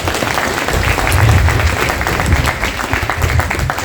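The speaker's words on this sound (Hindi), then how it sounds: "जोरदार ताली होनी चाहिए।" An audience gives loud, sustained applause at a Hindi Pakhwada event held by the Bureau of Indian Standards, a dense, steady crowd clapping with no break.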